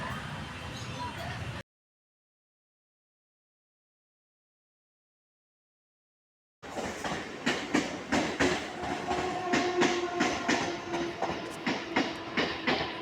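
A train passing near Parel railway station in Mumbai, heard as a steady rumble with rhythmic wheel clatter. The sound breaks off briefly into silence, then returns loud and close with sharp repeated clacks.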